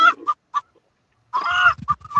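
Chickens cluck and squawk in a few sharp calls, then a longer loud squawking burst, close by with low thumps beneath and no talking.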